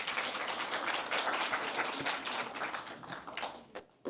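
An audience at a children's policy proposal contest applauds to welcome the judging committee chair. Brisk, steady clapping fades out near the end, followed by a brief sharp sound.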